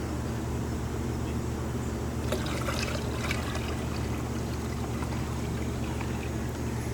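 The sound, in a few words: water poured into swimming pool pump basket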